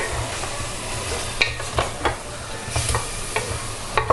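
Aachi instant chicken biryani sautéed in a pan over a medium flame, a soft steady sizzle broken by sharp scraping stirs of a spoon against the pan, close and clear, with no talking.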